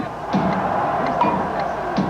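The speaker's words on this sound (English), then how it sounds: "a statue of Joseph Stalin was toppled and attacked by a crowd of angry movie extras" Crowd of angry movie extras toppling and attacking a Stalin statue in Heroes Square, Budapest: a steady, dense crowd roar with scattered shouts and bellows rising out of it, continuous at close-to-middle distance.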